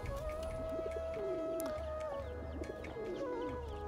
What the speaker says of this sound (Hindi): और ये हमारे कबूतर अपने बच्चे निकाल लिए हैं